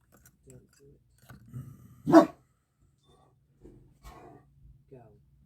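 A single loud bark from a Great Dane rings out, with faint, scattered rustling and muffled background noises before and after.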